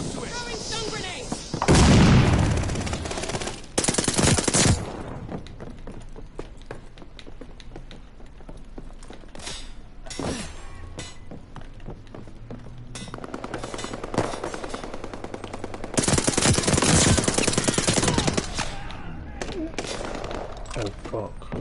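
Call of Duty video game combat with machine gun fire and stun grenade blasts, loud bursts near the start and again later over continuous battle noise.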